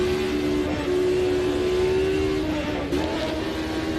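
A race car passes in Automobilista 2 on the Nordschleife during laps in a Mercedes: a loud, steady engine drone fills the moment, and its pitch dips slightly as the other car goes by.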